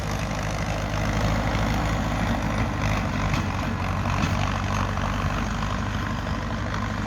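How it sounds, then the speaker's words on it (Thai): A Ford tractor plowing a rice field, with a steady, loud diesel engine drone that holds for the whole stretch without a break. "เด็กขี่รถไถฟอร์ดครับพี่น้อง"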